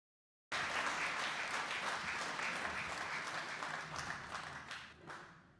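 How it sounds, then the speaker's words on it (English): Applause from an audience at a university event, starting abruptly and holding as a dense, steady wash of clapping before thinning toward the end. "A big round of applause for sister."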